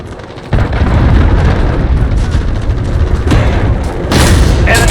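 In Call of Duty Modern Warfare Ground War, a cruise missile impact bursts in with a sudden loud boom, then a heavy rolling rumble that persists, punctuated by further sharp blasts near the end.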